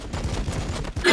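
Gunfire bursts in Warhammer 40K Battlesector, a quick run of rapid shots with a louder blast at the end, close and alone.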